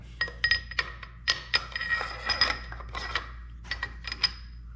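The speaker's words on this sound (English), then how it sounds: "Put the gas tube back." Metal parts of a Finnish Valmet Model 76 AK-pattern rifle in .223 clinking as the gas tube is fitted back in place during reassembly, a series of close, bright metallic clicks and taps in irregular bursts.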